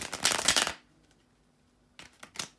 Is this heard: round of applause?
no